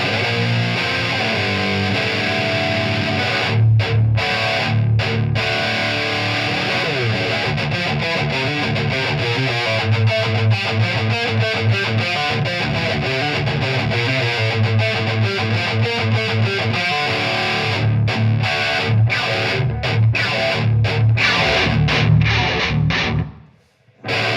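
An electric guitar with active pickups plays through the distorted purple channel of a Revv Generator 120 amp with no pedals, giving a loud, continuous, heavily saturated run of chugging riffs that stops abruptly at the end.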